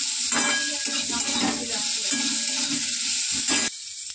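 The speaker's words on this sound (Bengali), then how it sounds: "তো তোমার দেখো সামান্য একটু সর্ষে ফোড়ন দেবে" Mustard seeds temper in hot oil with a bright sizzle, broken by stirring and the scrape of a utensil against the pan in uneven bursts, before the sound cuts off abruptly near the end.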